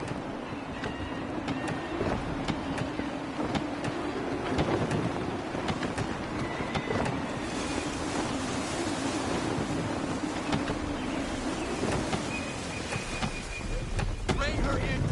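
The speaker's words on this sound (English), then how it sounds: "Gusty winds can be difficult to manage." Gusty wind at sea in Assassin's Creed 3, a dense continuous roar of wind and surging water around a sailing ship, steady and loud throughout.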